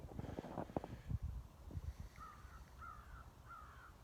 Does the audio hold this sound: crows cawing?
yes